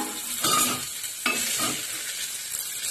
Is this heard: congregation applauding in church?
no